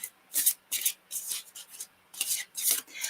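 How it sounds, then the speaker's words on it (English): A deck of cards being shuffled by hand, several quick riffling bursts with short pauses between them, close and fairly quiet with no talking. "I shuffle this way. I don't know if that's long ways or short ways, but with these cards I have to do it that way."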